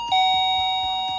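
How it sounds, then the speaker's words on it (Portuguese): A doorbell sound effect from the Vídeo Show editing app rings as one bright, sustained electronic chime with a ringing tone, and a faint rhythmic thump runs underneath. "Tem esse de campainha."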